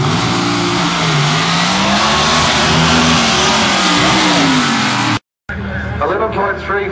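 Drag racing car with a 383 cubic inch engine accelerating hard, a loud sustained engine roar rising in pitch, cut briefly then resuming with other noise.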